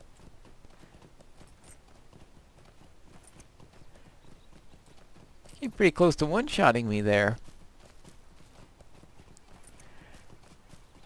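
A horse's hooves clip-clop in a video game, a short burst of loud close hoofbeats midway through, with someone talking over quieter game sounds before and after.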